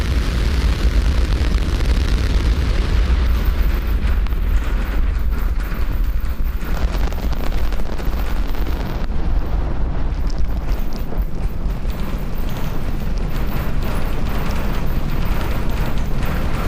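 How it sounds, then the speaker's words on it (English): SpaceX Starship lifts off on a flight test, its booster's 33 Raptor engines making a continuous, loud, rumbling roar with buffeting wind noise that stays intense throughout. "Lift off Starship."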